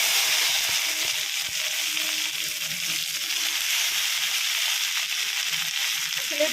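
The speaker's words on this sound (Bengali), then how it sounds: "এদিকে একটুখানি ঢেঁড়স ভাজা করবো" Okra frying in a wok on a home stove, a loud continuous hiss of hot oil with faint crackles, close and steady for the whole stretch, with no voices.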